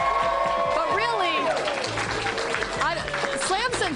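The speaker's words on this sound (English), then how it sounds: "Yeah, you can clap." A crowd gathered inside a Macy's store claps and cheers during a live morning TV broadcast, the applause steady and mid-distance beneath a presenter talking over it.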